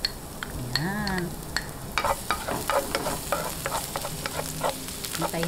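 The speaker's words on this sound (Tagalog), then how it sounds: "Ngayon po, umpisahan na po natin yung paggigisa." The filling for chilli cheese lumpia sautés in a pan with a steady sizzle and repeated close utensil scrapes. A brief whistle-like tone sounds early on.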